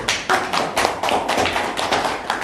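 Applause from an audience at a school staff meeting, a short burst of quick, uneven claps in the room that is moderately loud and has no talking over it.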